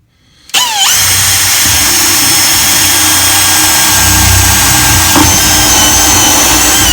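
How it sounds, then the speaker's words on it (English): A power drill whirs up to speed and then runs at a steady, loud, high-pitched whine, close by, uninterrupted, drilling a hole with a large bit after a smaller pilot bit, on a Unimog U500 camper build. "First with the small one, then with the big drill bit."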